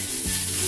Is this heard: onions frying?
yes